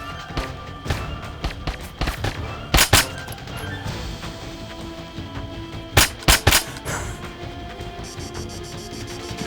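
Gunfire in the military shooter Arma 3 comes as scattered sharp cracks, with a few louder close shots near the start and a tight cluster of strong reports midway, set over a constant low rumble of battlefield ambience.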